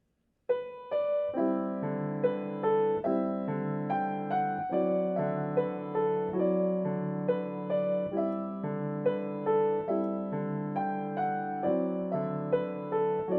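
Solo piano plays Rebikov's "Evening in the Meadow" in strict, even rhythm, each attack evenly spaced and clear, without pauses or swells.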